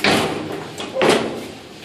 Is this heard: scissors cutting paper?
no